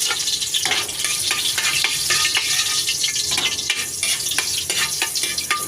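Garlic sautéing in hot cooking oil for taro leaves crackles and sizzles continuously, close and fairly loud, with frequent pops and spatters throughout.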